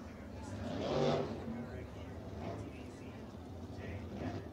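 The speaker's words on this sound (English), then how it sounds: "the field beginning to assemble behind the Toyota Racing Development pace truck as they roll into turns 3 and 4" USAC sprint cars roll at low speed behind a Toyota pace truck at Lawrenceburg Speedway, a faint, steady rumble of engines that swells briefly as cars pass, with talk over it.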